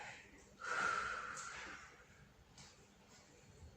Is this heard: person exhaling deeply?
yes